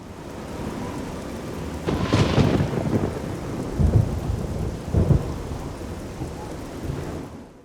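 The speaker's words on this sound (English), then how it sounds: "Also, the thunderstorm sounds incredible." Modded thunderstorm in Oblivion: steady rain hisses throughout while several deep thunder rumbles roll in, the loudest around the middle and two more later, alone without talk.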